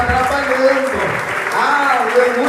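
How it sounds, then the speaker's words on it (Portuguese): A church congregation applauds during worship, steady crowd clapping running throughout under a preacher's continuous voice. "Enquanto você aplaude ao Senhor"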